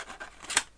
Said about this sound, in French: mes ciseaux Lexan.